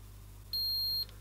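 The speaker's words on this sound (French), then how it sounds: "Deux bips, je valide." A single sustained high-pitched electronic beep, about half a second long, from a PERUN V2 optical airsoft trigger unit, over a low steady hum.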